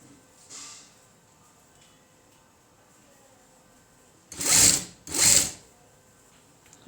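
A sewing machine stitching a blouse side seam, two loud close bursts of motor whirring in quick succession after a long quiet stretch, with a faint brief run earlier.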